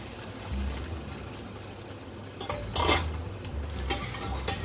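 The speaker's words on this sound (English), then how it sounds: "Add more broth." Broth poured into a pan of scallop risotto and stirred with a utensil, with soft scraping, sloshing and light metallic clinks over a steady low hiss, louder surges near the middle.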